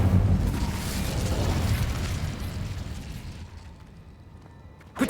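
A big fiery burst from the Incendio spell in Hogwarts Legacy, a loud boom that rolls on as a dense, crackling roar and fades over several seconds.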